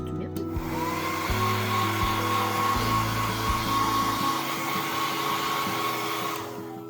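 A hair dryer blows on wet paint in a grid journal, a loud, steady whirring drone up close that runs almost the whole time and then cuts off at the end, with no talk.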